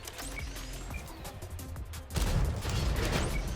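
A heavy tank cannon blast from the Object 490 Belka Soviet tank destroyer in a video game booms out, followed by a rumbling roar of explosions and crashing debris that fills the rest of the moment; no talking.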